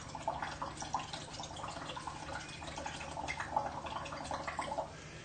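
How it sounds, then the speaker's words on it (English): Breath blown through a straw into a glass of water, producing a continuous bubbling, burbling gurgle with small pops, close and fairly quiet, lasting several seconds before stopping. "I'm going to blow in this and see what happens to this water as I blow in here"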